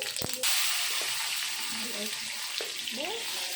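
Mustard seeds and cumin dropped into hot oil set off a steady, close hiss of frying that jumps up early on and then holds evenly, with a few faint tonal sounds in the background.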